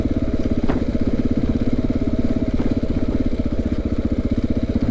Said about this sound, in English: the bike is almost stalling out when I'm at that speed